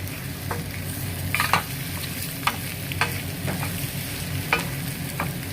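Pieces of boiled egg fry in a pan with a steady close sizzle, broken by occasional scraping and tapping from a spatula stirring them around.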